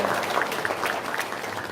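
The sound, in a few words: applause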